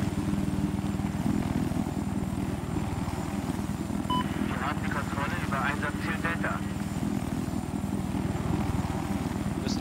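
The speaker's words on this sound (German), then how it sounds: "Warten, bis der Heli fertig ist." Helicopter in the video game Battlefield 4, a constant loud rotor and engine drone with a low rhythmic thrum, while a voice talks briefly over it.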